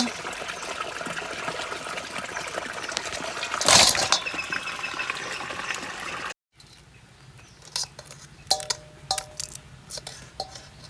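Live crabs from Mullaitivu beach are washed in water, a steady close splashing and trickling with a brief louder gush midway, then a cut to quieter handling with intermittent wet clicks and knocks.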